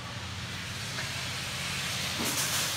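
A 1992 Chevy Silverado V8 with Flowmaster 40 series dual exhaust, 3-inch intermediate pipe, aftermarket high-flow cat and 3.5-inch angle-cut rolled tips gives a steady low rumble at idle, close and constant throughout, with a brief hissy swell near the end.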